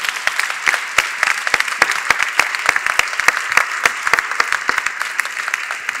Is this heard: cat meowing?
no